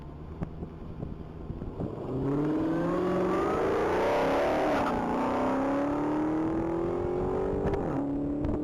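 A silver 2019 Dodge accelerates hard on the Texas Mile track, its engine note climbing steadily for several seconds, loud and sustained with a slight dip and rise midway, wind rushing over the microphone.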